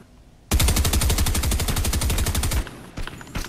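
Rapid automatic gunfire in Fortnite Reload, aimed at a tree, roars loud and close in a dense burst of about two seconds, then cuts off into quieter game ambience with a few faint pops.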